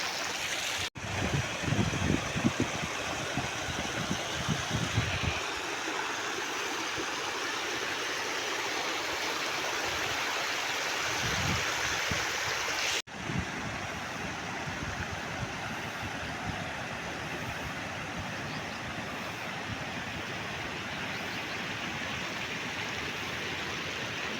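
Water gushes forcefully out of a side dam channel during the rainy season, a steady loud rushing roar that holds from start to end, with a few faint low bumps early on.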